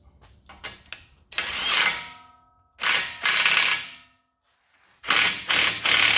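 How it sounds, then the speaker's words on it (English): A hand ratchet cranks down a nut on a tie rod sleeve of a 6th-generation Ford Bronco, heard up close in three loud bursts of rapid clicking separated by short pauses. "I'm gonna put our nut back on here and crank it down."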